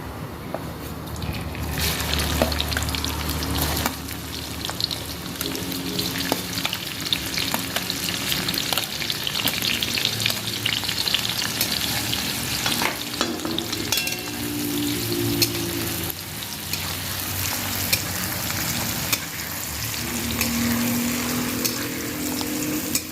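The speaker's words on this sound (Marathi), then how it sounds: "जिरं तळलं आहे आता आपण त्याला कांदा टाकायचा आहे" Onion frying with cumin seeds in hot oil, a steady loud sizzle that runs throughout with stirring scrapes mixed in, heard alone without talk.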